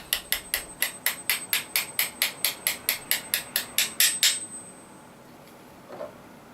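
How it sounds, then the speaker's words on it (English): Rapid, evenly spaced metallic taps, about seventeen in a row, drive a bolt pin in with a screwdriver while reassembling a KJ Works KC-02 airsoft pistol. The taps are close and sharp, then stop, followed by a faint clack. "Slight tap with the screwdriver, just so it sits below the surface."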